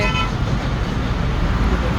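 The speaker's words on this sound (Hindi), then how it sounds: "देखिए अभी ट्रैफिक भी जाम है" Jammed road traffic in Karachi, with a steady roar of idling and creeping cars and buses, a short horn toot near the start, and faint voices under the dense, continuous din.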